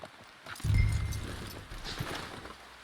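Horse hooves clopping in Red Dead Redemption 2 near a waterfall, a short run of soft, moderately close steps that swell and then fade, with quiet ambience around them.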